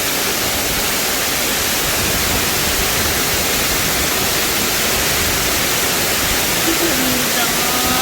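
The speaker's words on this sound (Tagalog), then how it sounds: "ang ganda-ganda ng falls sa loob ng bundok" A waterfall pours inside a mountain cave, a dense, loud, steady rushing roar filling the whole space without break.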